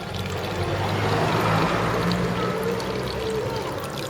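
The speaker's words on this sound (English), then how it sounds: "where I've poured that water in, it's coming out now" Water pouring out of a motorcycle cooling system during a coolant flush, a loud continuous splashing gush that stays steady and close throughout, with no talking.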